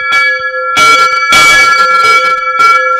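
A bronze bell at the Cornille Havard foundry, swung so its clapper strikes, rings out in loud repeated clangs roughly every half second, each strike leaving a sustained metallic ring.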